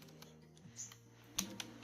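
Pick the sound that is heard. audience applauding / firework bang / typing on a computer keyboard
typing on a computer keyboard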